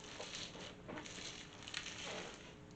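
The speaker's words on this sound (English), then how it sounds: "I love the sound of raindrops on the roof." Rain patters steadily on a roof, a dense, even wash of drops that runs unbroken the whole time with no voice over it.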